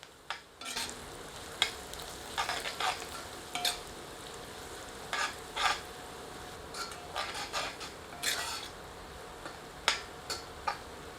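Onions fry over medium heat with turmeric and Kashmiri chilli powder, a soft low sizzle broken by scattered stirring scrapes and ticks across the whole stretch, with no talking.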